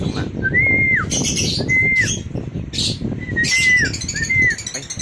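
Young pigeons in a loft give repeated rising-and-falling whistled calls with brief bursts of wing flutter between them. The sounds are close and clear, with a low background rumble.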